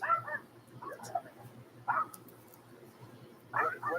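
Guard dog giving a few short yips and barks in separated bursts at moderate distance, over a low steady background hum.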